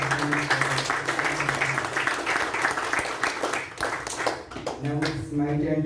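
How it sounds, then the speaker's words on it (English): Applause for the evaluators at a youth leadership meeting, brisk clapping from the room running under continuing talk, thinning briefly near the end before picking up again. "let us give a big round of applause to all these evaluators"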